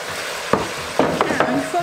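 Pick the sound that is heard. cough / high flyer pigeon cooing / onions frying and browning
onions frying and browning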